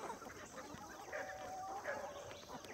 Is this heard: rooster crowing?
yes